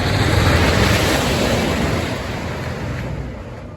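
A loud, steady roar of rumbling noise from a wooden roller coaster thundering along its track at California's Great America, fading slightly toward the end.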